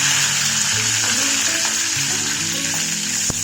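Five or six curry leaves crackle in hot oil for a tempering on a low flame, giving a loud, dense, unbroken sizzle with faint stirring scrapes and one sharp tap near the end.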